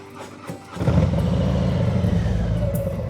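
A Harley Heritage motorcycle pulling away, starting with a quiet idle and then swelling into a loud, rumbling low engine note as it sets off and carries on steadily.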